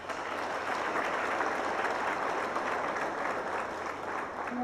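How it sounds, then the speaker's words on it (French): Crowd at a Haitian national police graduation ceremony giving sustained applause, a dense, even roar of many hands clapping at close range with no pauses. "nous avons demandé un gros applaudissement pour la police nationale"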